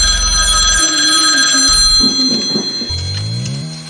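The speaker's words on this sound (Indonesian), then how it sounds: "telepon kembali berdering untuk kedua kalinya" A telephone rings in a low, repeating buzzing trill, loud and close, set against droning background music with no speech.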